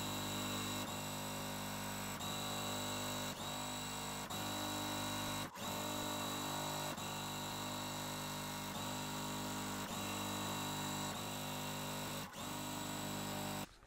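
A sewing machine runs continuously while stitching a Christmas quilt, producing a steady motor whir and rapid needle rhythm with a couple of brief clicks, close and without speech.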